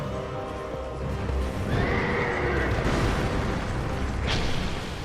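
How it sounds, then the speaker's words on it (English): A horse boss in Dark Souls II: Scholar of the First Sin lets out a loud, drawn-out whinny over heavy rumbling hoof stomps and combat noise, with no voices. "I get to fight a horse."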